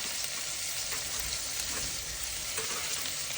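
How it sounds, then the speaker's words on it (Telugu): Green beans tossed into a hot pan of sizzling oil and stirred around, a continuous close frying hiss with faint scraping and shuffling textures running steadily throughout, no one talking. "బీన్స్ వేస్తున్నాను"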